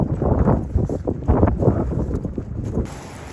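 Ocean waves wash against the coast along Tasmania's South Coast Track. Broad, surging rushes of surf rise and fall several times under heavy wind buffeting on the microphone, with no voices.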